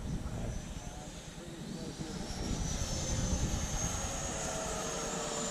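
A Freewing F-14 Tomcat RC jet with twin 64mm ducted fans passes over a field at idle throttle, a steady whooshing whine that swells slightly as it flies low, with voices faintly present.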